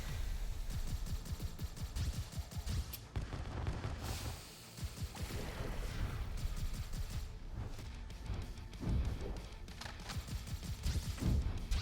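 Sustained video game gunfire with rapid shots and booms, loud and dense throughout, with brief pauses between bursts.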